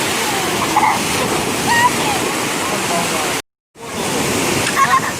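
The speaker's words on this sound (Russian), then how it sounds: "Сейчас волна идет." Sea waves break and wash along a beach in Turkey, a loud, steady rush of surf close by that cuts out for a moment partway through before the roar returns.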